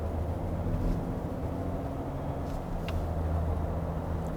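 Cars stream past at night on the eve of a national holiday, a faint continuous traffic rumble heard from inside a 2020 Kia Mohave diesel SUV, with low engine drone and no talk.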